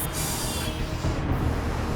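Air rushing into a tanker truck's brake lines as they are aired up, a loud, steady broadband hiss that stays close for two seconds with a brief high burst at the start and no speech.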